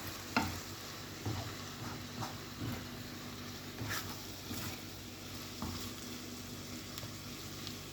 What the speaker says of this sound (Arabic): هننزل بالطماطم اللي احنا بشرينها وهنقلب